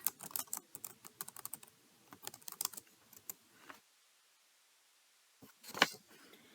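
Fast bursts of computer keyboard typing, close and clear, stop and fall silent before a few last keystrokes near the end.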